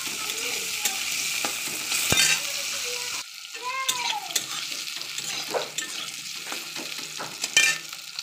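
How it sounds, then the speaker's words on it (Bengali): Eggplant fries in hot oil with a continuous close sizzle, broken by repeated stirring scrapes and clinks of a utensil against the pan, with no voices. "বেগুন ভাজতে দিয়েছি।"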